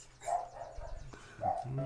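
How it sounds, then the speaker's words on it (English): Dogs, small teacup poodle-sized ones, barking and yipping outdoors in short repeated bursts, moderately loud and somewhat distant. "You can hear a gnome outside yelling at the dogs"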